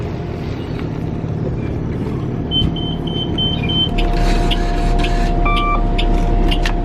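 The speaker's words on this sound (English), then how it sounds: "This is a nice bus." Interior of a moving Bee-Line bus, with a steady low engine and road rumble, a louder low drone after a few seconds, and faint chimes and electronic beeps over the cabin noise.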